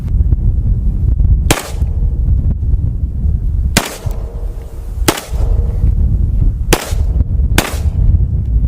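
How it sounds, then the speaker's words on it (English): Hollow point rounds fired into dirt: five loud, sharp gunshots at uneven intervals over a constant rumbling background. "We're shooting some hollow points as well"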